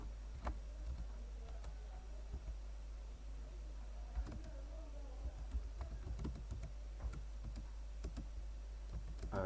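Keystrokes on a computer keyboard while C printf code is typed, scattered clicks at an uneven pace with a steady low hum underneath, close and fairly faint.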